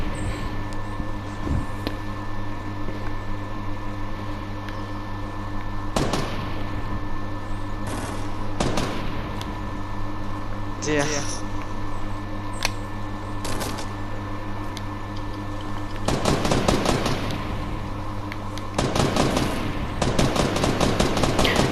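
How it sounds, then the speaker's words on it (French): Gunfire in a Fortnite match, rapid bursts of automatic shots and single cracks repeating over a steady hum of game sound, fairly loud and close, with denser volleys toward the end and no talk. "Kirito qui continue de tirer sur Dono avec acharnement"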